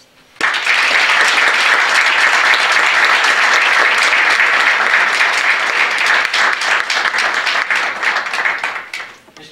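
Sustained applause fills a hall at a moot court finals and award ceremony, a crowd clapping steadily and loudly for about nine seconds before tapering off at the end.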